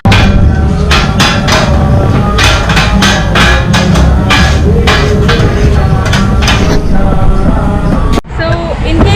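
Puttu, a Sri Lankan dish, is prepared at a city-centre food spot in Kandy: loud, rapid, continuous metallic clanging strikes close by, with a short break near the end.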